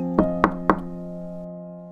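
Three evenly spaced knocks sound on an office door, crisp and close, over a steady tonal music bed that continues after them.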